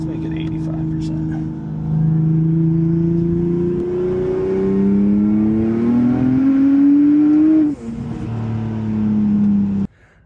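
A BMW N55 engine car on a dyno at 43 psi boost screams through a long wide-open pull, pitch climbing steadily then dropping at a shift before climbing again, with a brief voice over it and an abrupt cut at the end.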